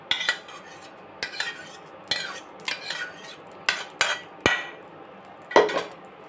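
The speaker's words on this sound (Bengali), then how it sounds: "এবার ভালো করে দই ভাতের সাথে এটাকে মিশিয়ে নেব।" A spoon clinks and scrapes against a bowl as fried tempering is stirred into South Indian curd rice, a series of about ten sharp metallic taps and scrapes in an uneven rhythm, close and clear, without talking.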